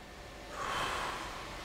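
A single soft breath during a banded neck stretch swells gently and fades, close but faint and quiet, with no one talking.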